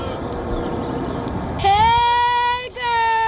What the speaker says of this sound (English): goats are being used to clear off a patch of land.